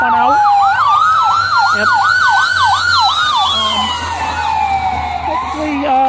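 An ambulance siren wails past in snowy winter weather, its rising and falling tone sweeping loud and close before fading as it moves away; someone says a brief word over it.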